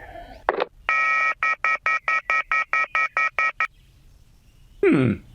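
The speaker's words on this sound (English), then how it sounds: "That phone call was surely one of the strangest I've ever received." In the video game YIIK, a telephone is dialed: a burst of tones, then a run of about eleven evenly spaced beeps, and a closing descending electronic sweep, all clear and close against silence.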